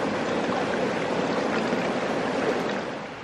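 A creek flows past a campsite on the shore, a close, steady rushing babble of water with no voices, easing slightly at the very end.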